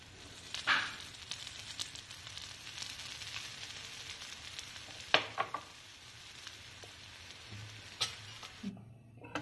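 Oil sizzles on a pan while a dosa cooks, a steady close frying hiss with a few sharp clinks and taps of a utensil against the pan.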